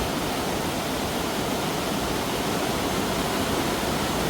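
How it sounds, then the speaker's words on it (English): Fast, swollen water rushing down a hillside stream or waterfall after rain, a steady loud broadband roar filling the whole clip with no voices. "we'll get some shots of the water running down"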